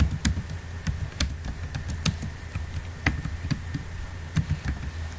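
Steady clacking of keys on a computer keyboard while entering data into an Excel billing sheet, with irregular clusters of taps over a low background hum.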